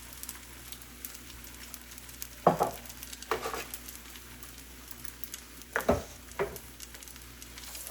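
Egg scrambling in a frying pan, a soft steady sizzle with a few louder scraping stirs of a utensil against the pan at irregular moments.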